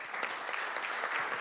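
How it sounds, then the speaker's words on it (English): Brief, fairly faint applause from an audience at a school district governing board meeting, a steady patter of many hands clapping with no talk. "Let's give Colton a round of applause."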